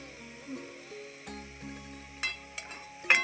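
Fritters made with bitter gourd leaves and egg fry in hot oil, giving a soft, steady sizzle with a few sharper crackles and utensil clinks near the end.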